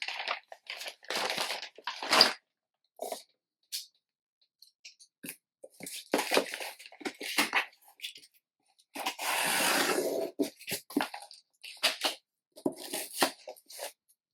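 A book parcel is opened nearby in short bursts of crinkling, tearing and rustling paper and cardboard, with quiet pauses between handling sounds and no speech.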